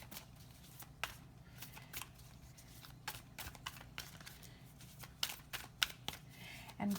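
Animal oracle cards shuffled and drawn by hand, a run of quick crisp riffles and flicks coming in irregular bursts, close and fairly quiet.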